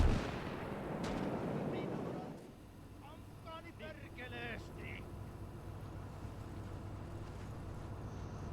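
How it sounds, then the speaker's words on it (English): A 120mm cannon shot in the WWII strategy game Gates of Hell: Ostfront booms loudly at the start, then rumble fades into quieter battlefield noise with scattered faint crackles. "That sounds like a 120mm cannon."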